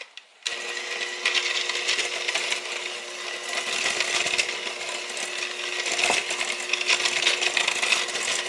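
An electric mixer whirs steadily as vanilla extract is beaten into softened cookie dough for Caramilk cookies, a continuous close motor hum with faint rattling from the bowl, starting abruptly and running to the end.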